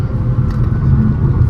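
A Honda Elevate ZX CVT compact SUV accelerating hard, its engine and road noise forming a steady, loud low rumble throughout with no voices.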